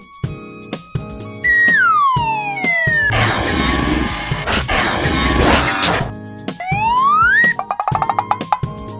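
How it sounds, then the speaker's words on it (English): A fire truck siren in a children's vehicle cartoon gives loud rising and falling wails, mixed with a burst of heavy crashing noise and bouncy rhythmic music. "Fire truck."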